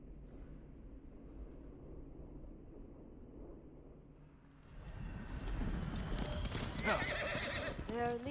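Horse hooves clip-clopping while riding in Ghost of Tsushima, with a horse whinnying; a quiet ambient stretch gives way to louder, busier galloping and game sounds in the second half, with speech around it.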